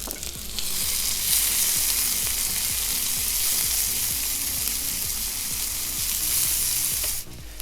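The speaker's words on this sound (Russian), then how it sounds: "Первым делом отправляем обжариваться лук." Onions fry in a sadj pan with a loud, steady sizzle that holds for about seven seconds, then drops off sharply near the end. Low scraping and stirring taps sound underneath.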